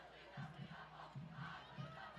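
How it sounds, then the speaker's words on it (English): A high school football student section roars from across the field in repeated rhythmic bursts of shouted chanting, three distinct surges over a low crowd murmur, heard at a distance. "the student section going crazy over on the other sideline"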